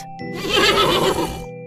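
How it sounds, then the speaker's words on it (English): A horse whinnies in one short, loud, close neigh lasting about a second, over a soft steady musical background. "Horse."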